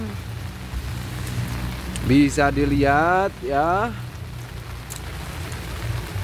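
Heavy rain pours steadily over an outdoor hydroponic garden growing water spinach, tomatoes and chillies, a constant hiss throughout while someone speaks briefly over it.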